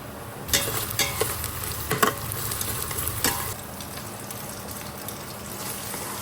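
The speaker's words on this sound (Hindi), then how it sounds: "अब इसको थोड़ा सॉटे कर लूँगी. थोड़ा सा जिंजर गार्लिक पेस्ट ऐड कर रही हूँ." Ginger garlic paste sautéing in a home kitchen pan, with a soft continuous sizzle broken by several sharp scraping stirs in the first half before it settles into a steady fry.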